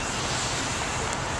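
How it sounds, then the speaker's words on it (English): Strong blizzard wind at Lake Michigan in Chicago during a snowstorm, a steady, loud broadband roar buffeting the microphone throughout, with no pauses or talk. "currently snowing, and it's pretty damn windy."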